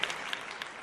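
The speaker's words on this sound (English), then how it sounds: "Round of applause." Short burst of audience applause in a small group, a few sharp claps standing out over a soft wash of clapping, moderately quiet and with no talking.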